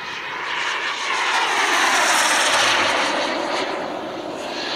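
A radio-controlled model airplane flies overhead above a road at a French aeromodelling meet, its small engine a loud, steady buzzing drone that swells and fades slightly as it passes.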